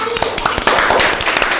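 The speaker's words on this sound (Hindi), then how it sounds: "तो एक बार जोरदार ताली बजा दीजिए" A classroom group claps loudly in a burst of quick, dense hand slaps, close and fairly loud, with voices mixed in under the clapping.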